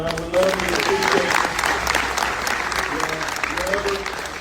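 A crowd gives a big round of applause with steady, loud clapping, and voices and cheers break through the clapping at times.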